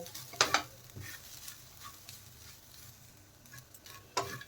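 Ground almonds, cashews and raisins stirred and fried in a pan, with scattered scraping clicks of a spoon against metal, two sharper scrapes near the start and one near the end, over a low quiet sizzle.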